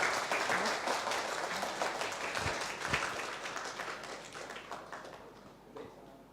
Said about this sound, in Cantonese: 俾啲掌聲啦